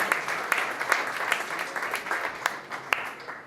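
Audience applause at a healthcare and biotech startup pitch competition, a steady wash of many hands clapping with a few sharper claps standing out, moderately loud and continuous throughout.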